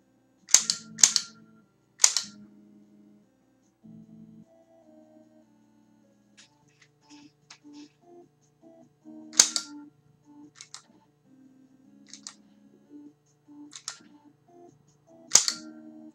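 Sharp cap-gun-like shots from an NES Zapper light gun in the game Freedom Force, a handful of crisp cracks spaced irregularly among quiet game beeps and tones, close and loud, with no voices.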